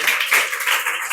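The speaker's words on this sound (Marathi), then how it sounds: "टाळ्या वाजवा." A class of children clapping their hands together, a dense, loud burst of overlapping claps lasting about a second with no talking.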